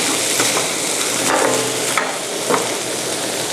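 A salty Thai dessert filling being stir-fried in a pan, a close, steady sizzle with intermittent scraping strokes of the spatula, fairly loud and continuous with no voices.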